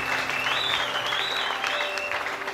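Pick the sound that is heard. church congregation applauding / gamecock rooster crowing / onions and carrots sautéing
church congregation applauding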